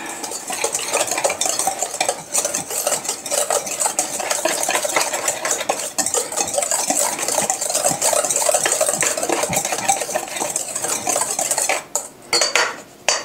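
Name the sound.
mixing ingredients for keto cookies in a bowl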